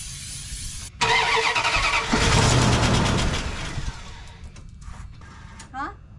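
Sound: 1991 Dodge Dakota truck engine cranking, trying to start

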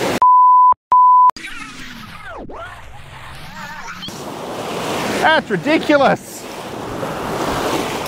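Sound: ocean waves from a passing ship hitting a breakwall

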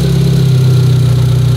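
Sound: car engine running after repair

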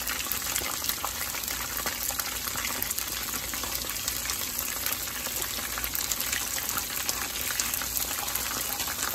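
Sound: sauce bubbling in a pot

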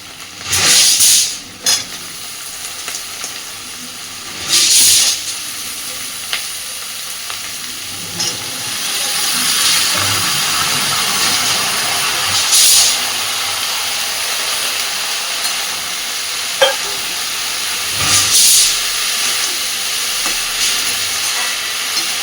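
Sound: cut washed bottle gourd added to hot pan, sizzling

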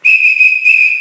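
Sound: whistle

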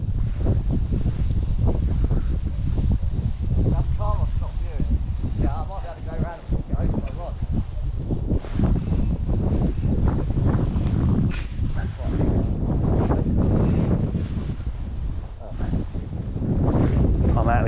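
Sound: wind blowing over water while fishing

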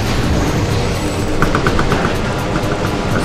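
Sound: regular arm cannon shots in Metroid Prime 2 Echoes video game

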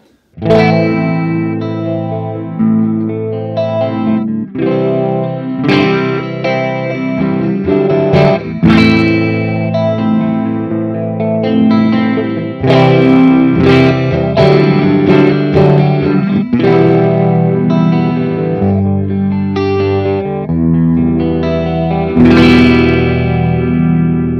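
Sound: guitar chorus and phaser effects

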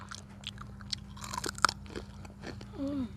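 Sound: crunching crispy dried banana chips

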